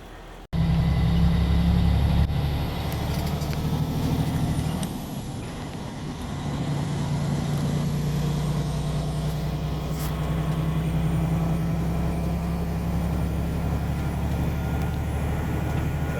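Big truck pulling out of a truck wash onto a highway ramp, a loud steady diesel rumble with an initial air-brake hiss, continuing low and constant throughout without talk.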